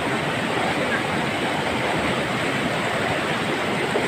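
Dense, continuous rushing of a swollen mountain stream in high water, close and loud throughout with a steady broadband roar and no clear voices.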